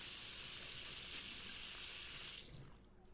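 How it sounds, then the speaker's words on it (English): In the Cooking Simulator video game, tap water pours steadily into an empty pot with a bright, hissing rush. The flow stops abruptly after about two and a half seconds, leaving faint residual sound. "So let's get 1 liter of water in here."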